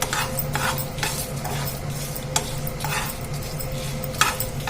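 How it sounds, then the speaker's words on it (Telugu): Red chillies, urad dal, cumin, fenugreek and coriander seeds fry in oil with a constant crackling sizzle, broken by repeated scraping stirs and occasional light taps of a utensil against the pan. "ఇప్పుడు మిరపకాయలతో పాటు ఇవి కూడా వేగుతాయి అన్నమాట"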